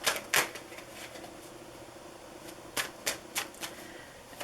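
Tarot cards are shuffled and drawn close up, with a few sharp riffling bursts and soft taps spaced irregularly over a quiet room.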